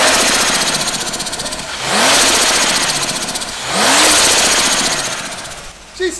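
A budget turbocharged car engine runs steadily at idle on a dyno with a rough, knocking texture, swelling twice with short revs before settling back down.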